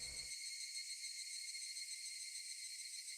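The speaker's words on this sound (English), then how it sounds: "Only the cry of the cicadas remained, annoyingly loud." In the Higurashi visual novel, a loud chorus of cicadas keeps up a steady, droning buzz throughout, alone after a brief low sound fades at the start.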